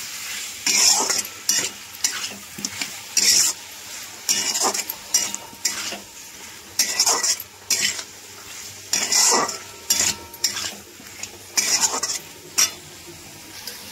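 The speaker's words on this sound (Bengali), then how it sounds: "এবার আলুগুলোর সঙ্গে মশলাটা ভালো করে কষাবো।" Loud frying sizzle as potatoes cook with spices in a pan, broken by repeated bursts of stirring and scraping with a utensil, coming in uneven rhythmic strokes close up.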